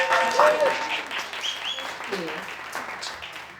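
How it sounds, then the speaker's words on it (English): Audience applause fills a club talk venue, a steady wash of clapping heard under a speaking voice throughout the short stretch. "Let's give them all a round of applause."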